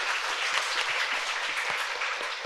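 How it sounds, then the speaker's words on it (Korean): Audience at the Seoul International Writers' Festival applauding after a panel of novelists, a steady patter of clapping from a moderately sized crowd, heard from some distance and fairly faint. "박수 한번 더 부탁드립니다"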